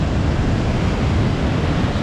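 High Force waterfall roaring with extra water after recent rain, a loud, constant broadband rush with wind buffeting the microphone and no pauses.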